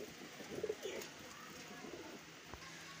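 Soft pigeon cooing, a couple of low gurgling calls early on, faint against quiet background noise with no talking.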